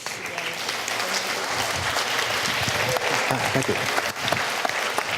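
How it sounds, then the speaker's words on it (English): An audience claps steadily and loudly to welcome a speaker onto the stage at a talk on robotic laser welding and cutting. The dense applause runs throughout, and a voice speaks briefly over it. "So let's welcome Daniel to the stage."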